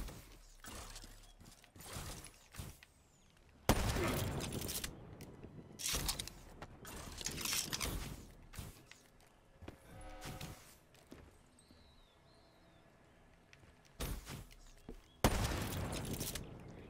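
Gunfire in Call of Duty Black Ops 3, heard as sharp loud bursts and volleys separated by quieter stretches of movement and mechanical clatter.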